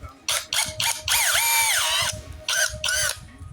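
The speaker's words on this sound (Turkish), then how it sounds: "Yavaş yavaş deliyorum da daha belirgin olsun diye bak." A power drill fitted with a 20 mm PPR pipe reaming bit shaves the welded section inside a pipe, whining in several short bursts and one longer run with changing pitch, close and loud, with no speech.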